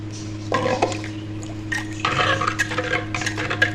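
A spoon clinks and scrapes against a container as black salt is stirred into a beetroot kanji drink, with several distinct taps and swirls over a low steady hum, close up and without speech.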